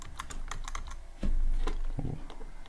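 Typing on a computer keyboard, with quick, close key clicks in an irregular rhythm and a few heavier thumps in the middle, over a faint low background hum.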